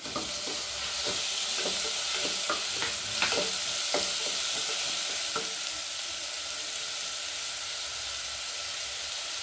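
Tomatoes frying in a pan for a suraikai (bottle gourd) gravy give a steady, close sizzle and hiss, with scraping stir strokes clustered early and no talk over it.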